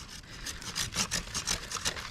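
A hand saw cuts through a small tree branch while pruning, close up and alone, with quick rhythmic strokes rasping back and forth through the wood.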